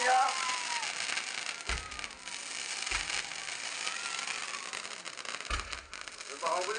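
A Bahubali six-shot firework lets off three deep, separate booms spaced a second or more apart, set against a hissing crowd and an amplified voice talking through a loudspeaker.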